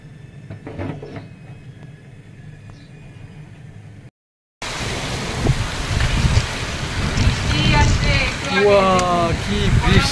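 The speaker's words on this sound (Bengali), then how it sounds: "কি বৃষ্টি, যেরকম গরম ছিল সেই বৃষ্টি একেবারে কি ঝড় বৃষ্টি" Heavy rain pours in a noisy storm, a dense steady roar that begins abruptly after a quieter stretch and grows louder, with gusty rumbling underneath.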